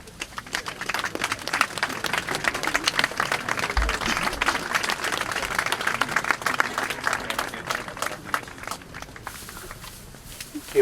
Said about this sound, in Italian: Possiamo fare un applauso alla pace.